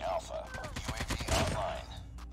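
Rapid bursts of AK47 automatic fire in Call of Duty Mobile, a dense rattling volley of many quick shots running without a break through the moment, fairly close and sharp.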